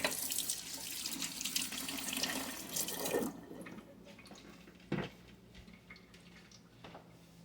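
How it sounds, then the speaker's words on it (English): Hands rinsed under a running kitchen sink tap, a steady splashing stream for about three seconds, then the tap shuts off, leaving faint drips and a brief clatter. "I'm going to rinse my hands off."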